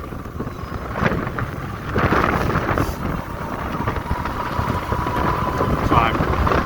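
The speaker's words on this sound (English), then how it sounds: "the wind picked up and it's killing me now" Wind roars and buffets steadily against the microphone while riding a Movcan V60 electric unicycle, a constant close rushing noise across the whole stretch.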